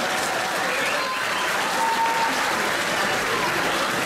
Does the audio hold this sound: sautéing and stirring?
no